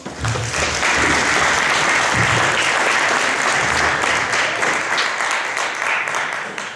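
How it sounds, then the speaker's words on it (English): Loud, sustained applause from a sizable audience, steady clapping filling the room for several seconds with no talking over it. "Let's give them a round of applause."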